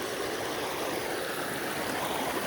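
Clear stream water flows continuously in monsoon hills near windmills, a steady broadband rush close by with no voices.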